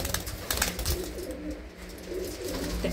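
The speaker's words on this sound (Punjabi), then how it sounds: "ਤੇ ਆਹ ਦੇਖੋ ਇੱਕ ਕਬੂਤਰੀ ਇਹਦੇ 'ਚ ਵੀ ਬੈਠੀ ਆ" A pigeon coos repeatedly inside a loft in a village near Amritsar, the soft, rolling calls close and steady over a busy, noisy background.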